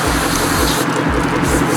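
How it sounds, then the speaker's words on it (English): A continuous hiss of cleaner spray from a can onto a car's mass airflow sensor, loud and close, holding steady for under two seconds. "Just spray it off."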